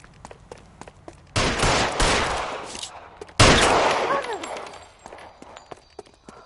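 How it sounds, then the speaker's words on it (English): Gunfire in the L.A. Noire video game: two loud bursts of shots, each trailing off over about a second, separated by a brief lull, with quieter clicks and small impacts before and after. "stop or I will shoot!"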